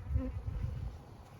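Honey bees humming inside an opened hive during a late-winter inspection, a low, steady drone heard close up and fairly quiet, with no one speaking.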